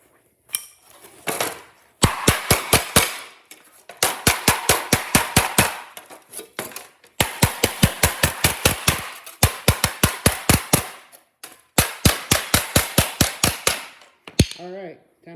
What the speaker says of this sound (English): I can hammer in some radius here and here